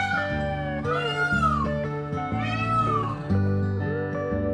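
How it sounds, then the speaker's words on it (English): A peacock gives loud, wailing, cat-like calls, two or three rising and falling cries heard over background music. "peacock"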